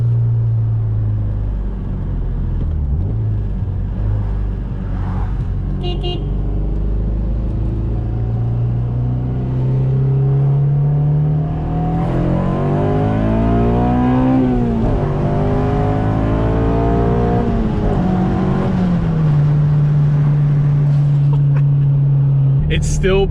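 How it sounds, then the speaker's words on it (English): A 2007 Honda Civic Si with about 200,000 miles revs hard through its VTEC crossover, the engine note climbing in pitch, dropping on a shift and climbing again, loud and close under a voice talking. "This thing feels amazing. Like, beautiful VTEC crossover."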